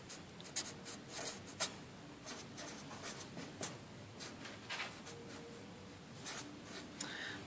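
Pen or pencil writing out a coordinate point on paper, close-up scratching strokes with brief taps and pauses, quiet and alone.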